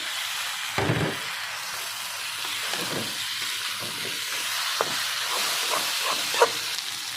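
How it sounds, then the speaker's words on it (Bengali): Dried fish (shutki) fries in a pan with onion and spices, giving a soft steady hiss and sizzle broken by intermittent spatula stirs and knocks. "এবার আমি দিয়ে দিচ্ছি শুটকিটা।"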